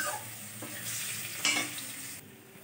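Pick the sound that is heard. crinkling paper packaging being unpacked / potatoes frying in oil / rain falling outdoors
potatoes frying in oil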